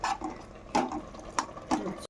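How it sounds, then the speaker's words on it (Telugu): Water draining from soaked lentils in a kitchen, a close, soft splashing trickle with several louder gushes at roughly regular intervals, with no voices. "నీళ్ళు నీళ్ళు ఇలా తీసేయాలి బయటికి"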